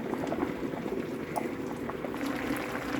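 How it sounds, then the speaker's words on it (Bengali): Rice boils in a rice cooker with a steady bubbling and light popping, close and continuous throughout, with no talking. "রাইস কুকারে আমার ভাত হয়ে যাচ্ছে"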